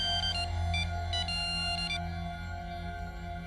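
A mobile phone ringtone plays a repeating electronic melody in short bursts over a steady hum, then trails off.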